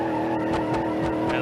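Car tires squealing and skidding around a skid pad in BeamNG.drive on a Barstow, a steady loud engine drone with repeated bursts of tire squeal, no talk.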